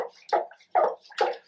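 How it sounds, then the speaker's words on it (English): Water poured onto a plant pot in short bursts, three or four splashy pours, close and moderately loud, each separated by a brief pause. "I'm going to water it now."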